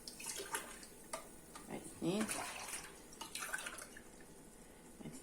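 Boiled water poured in repeated splashing gushes into a container of turnips for pickling, close and moderately loud, with a voice speaking briefly over the pouring.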